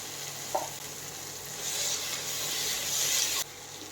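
Oil sizzling steadily in a pan as turmeric powder goes in for Kumbakonam kadappa, with a brief tap near the start and the frying hiss swelling slightly before cutting off near the end.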